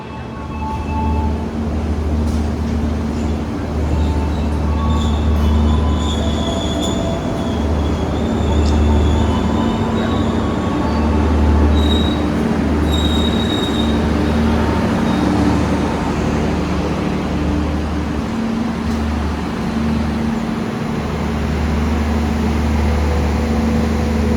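Steady, loud rumble of a train rolling through a station in Indonesia, with rhythmic low thumps from the wheels and faint high squeals over the constant roar.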